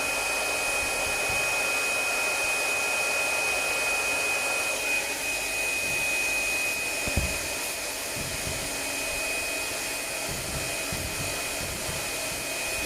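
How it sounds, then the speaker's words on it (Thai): A hair dryer blows steadily on a freshly bathed pet's wet fur, a loud continuous close whir with a high whine that shifts slightly as the airflow moves, with a few faint knocks. "เป่าขนเกือบแห้งแล้ว"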